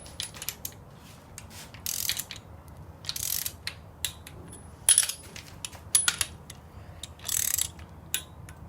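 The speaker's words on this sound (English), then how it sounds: "now we'll go ahead and step up to the torque wrench. Let's start at 10 foot-pounds." A torque wrench tightens Volkswagen Beetle 2054cc stroker engine case bolts, giving bursts of sharp ratcheting clicks at intervals with quiet pauses between, close and clear, no talking.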